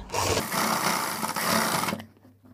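A sewing machine runs steadily for about two seconds while stitching a pocket onto a salwar, then stops abruptly, leaving a quiet tail.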